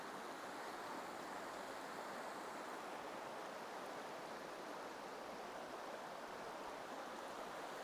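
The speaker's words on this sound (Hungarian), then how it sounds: "amikor ennyire közel vagyunk a patakhoz, hogy itt csobog a víz" Babbling stream flowing right beside a campsite in the Canadian wilderness, a steady, soft rushing of water that runs unbroken with no voices.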